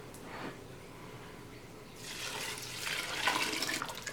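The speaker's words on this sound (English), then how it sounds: "And then we're going to add some more spring water." Spring water pours into a soup pot, a soft trickle at first that swells into a fuller, splashing gush over the last couple of seconds, fairly quiet and close.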